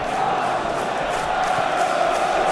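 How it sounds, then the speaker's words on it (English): Home crowd noise in PES 2021 during a Port Vale versus Arsenal FA Cup replay, a continuous, dense wash of cheering and applause from the stands with no break. "who gets a lovely ripple of applause from the home crowd"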